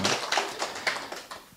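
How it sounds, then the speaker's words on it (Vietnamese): A small group claps for a participant at a Buddhist dharma talk. The applause is brief, light and fairly faint, a scattered patter of hand claps lasting just over a second with no voices. "cho anh luôn tràng pháo tay nữa"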